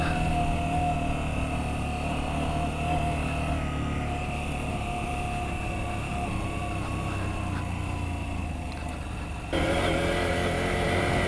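A KTM 790 Adventure motorcycle rides off-road at about 20 mph, its engine a steady continuous drone under wind rumble from start to finish, with no talking.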